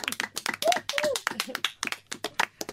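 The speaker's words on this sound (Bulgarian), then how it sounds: "Аплодисменти, уважаеми." Clapping by guests in a radio studio. It comes as quick, close, crisp claps in an uneven burst over about three seconds, with a few vocal sounds mixed in.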